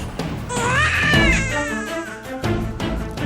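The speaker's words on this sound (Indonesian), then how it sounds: "Itu suara bayi." An infant cries loudly and continuously in wavering, high-pitched wails close by, with short breaks and gulping breaths between cries.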